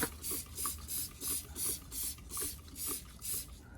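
Meguiar's Hot Wheels cleaner sprayed from a trigger bottle onto a wheel mitt used for cleaning carbon fiber GT350R wheels, about nine quick, evenly paced spray bursts close by, with no voices.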